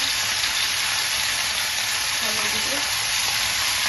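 Fish curry with tomatoes sizzling and bubbling in a pan, a steady loud frying hiss throughout with a faint voice in the background.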